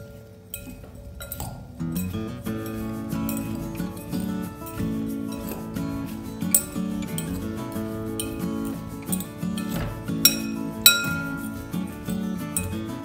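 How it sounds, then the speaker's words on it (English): Forks tossing potatoes with olive oil in a bowl: close, repeated metallic clinks and scraping taps against the dish in an irregular rhythm, fairly quiet and continuous throughout. "we take our forks and make sure everything is nicely mixed"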